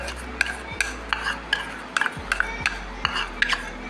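Grated coconut mixed with sugar and cardamom in a bowl, heard as close, rhythmic stirring with scraping strokes and light clicks of a utensil against the container, several quick passes in a row.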